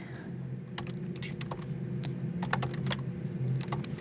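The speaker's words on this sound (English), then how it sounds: "So I can just go in here and actually write max length." Someone types on a computer keyboard while coding, with quick clusters of crisp key clicks over a steady low hum, fairly close and without talking.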